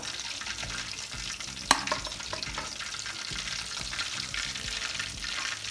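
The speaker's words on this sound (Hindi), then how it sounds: "अब मैं इनको बाहर निकाल लूँगी और दूसरे पीसेस में फ्राई करूँगी डाल के" Pieces of fish deep frying in hot oil, a continuous dense crackling sizzle with bubbling, one sharp clink of a utensil early on, heard close and steady throughout.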